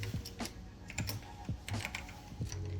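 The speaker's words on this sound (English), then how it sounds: "This freaking W key on this keyboard is kind of losing it." Keys clacking on a computer keyboard with a failing W key, bursts of quick taps spaced roughly every half second, close and fairly quiet, no voices.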